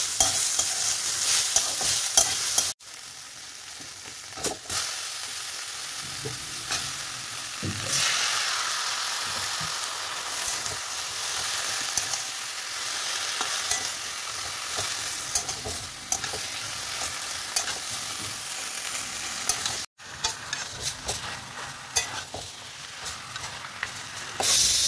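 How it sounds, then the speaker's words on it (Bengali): A fish-head chorchori frying in a small amount of oil, with a steady close sizzle running throughout and repeated scraping and clinking of a spatula stirring the pan. "খুবই অল্প তেলে রান্না করছি।"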